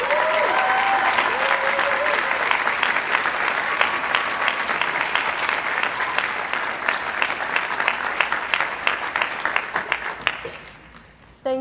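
Commencement audience at a Harvard class day ceremony breaking into sustained applause for a speaker, a large crowd clapping steadily before tapering off, with a few shouts mixed in.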